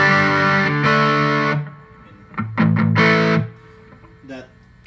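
Electric guitar played through a Musika Overdrive pedal, set for a second-stage overdrive tone: loud, sustained distorted chords ring out in two bursts separated by a quieter pause with a few lighter notes.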